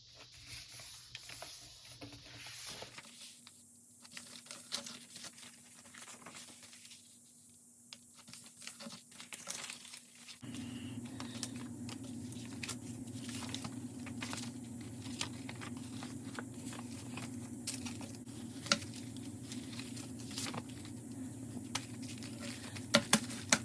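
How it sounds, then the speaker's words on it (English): Paper pages being folded and handled while assembling a signature for an envelope journal, with soft crinkles, creases and tapping scrapes scattered over a low steady background hum, close and quiet, without talk. "I'm going to fold all the rest of my pages and assemble my signature"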